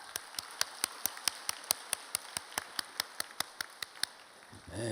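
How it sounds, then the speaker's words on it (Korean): Slow, evenly spaced single claps from a church congregation welcoming new members, about twenty sharp hits in a steady rhythm, fairly faint and distant, then stopping before a brief rumble at the end. "우리 박수 한번 보내겠습니다"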